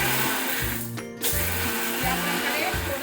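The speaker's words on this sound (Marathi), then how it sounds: "दाखवलेले सगळं साहित्य आहे ते आपण मिक्सर मध्ये टाकलेलं आहे आणि ते मिक्सर आपण डायरेक्ट असं" A kitchen mixer grinder pulses in short bursts, coarsely grinding a spice paste for kothambir vadi, its motor whirring loudly in a rhythmic on-off pattern with a brief pause near the start.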